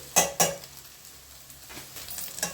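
Everest biryani masala frying in a pan, heard as a faint, soft sizzle close by, with two sharp clinks of a spoon on the pan at the start and light stirring scrapes later.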